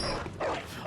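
In the video game Bloodborne, a dog gives a short, close bark and yip, a brief harsh burst over dense game noise.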